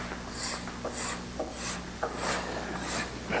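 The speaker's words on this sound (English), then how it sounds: "Final fitting of the neck. It's all done with hand scrapers." Repeated rasping strokes of a hand scraper on a wooden bass guitar neck, steady back-and-forth scraping at close range with no talking.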